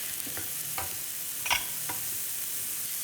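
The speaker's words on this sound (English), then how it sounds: "I want to get my vegetables sautéed, so a little bit of olive oil. The onion goes in next." Onion sautéing in olive oil for a Greek meatloaf, a soft steady sizzle with a few light stirring scrapes and one brief louder clatter near the middle.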